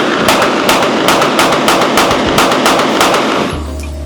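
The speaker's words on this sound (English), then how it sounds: "Final thoughts on the Ruger RXM. It's a smooth shooting gun." Rapid shots from a Ruger RXM pistol at a shooting range, a dense run of sharp reports fired close and loud for about three and a half seconds, then stopping abruptly.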